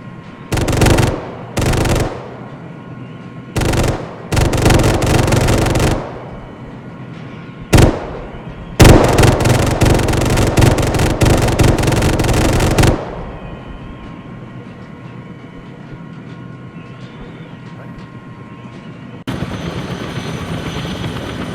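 Heavy 20mm cannon fire in ARMA 3 rips out in several loud, sustained bursts of varying length separated by short gaps, with a low aircraft engine drone continuing underneath once the firing stops.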